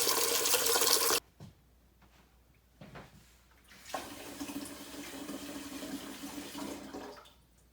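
Tap water runs into a pot for egg boiling, a loud gush cut off abruptly, then a pause with small clunks before a softer, steady stream resumes and trickles on.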